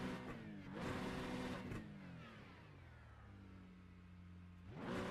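Racing video game GT3 race car at Spa, engine roaring near and loud at full throttle with rising and falling harmonic pitch sweeps as it shifts, a fresh surge building near the end.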